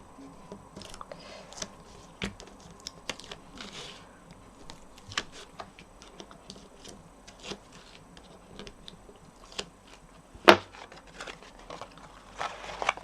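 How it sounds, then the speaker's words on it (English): Backing strip being peeled off tear-and-tape adhesive while assembling a paper gift box: soft, scattered crackles and light clicks, fairly quiet, with one sharper snap near the end. "I'm just going to take the backing off of the tear and tape, just like this."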